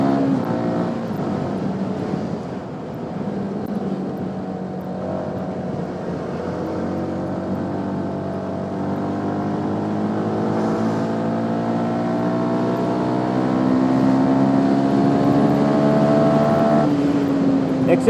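A CFMoto NK 250 naked sport motorcycle engine under way, a close, steady droning hum whose pitch slowly climbs as the bike accelerates, heard alone without speech.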